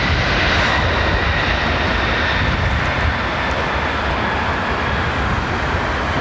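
An airliner lands at London Heathrow Airport, its engines roaring loud and steady across the runway as a continuous broadband rumble.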